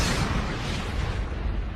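Explosion from an asteroid impact: a dense, sustained rumbling roar, loud and full, holding steady for under two seconds with no distinct onset and no voices.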